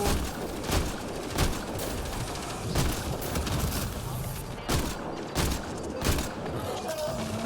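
Pistol fire from the video game Mass Effect Andromeda: a rapid series of loud, punchy shots at a roughly steady rhythm over dense game noise, with a voice speaking briefly among them.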